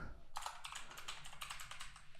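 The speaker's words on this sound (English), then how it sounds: "So if I start typing here, it says 1 characters." Fingers typing on a computer keyboard in quick irregular clicks, close and fairly quiet, with no voices.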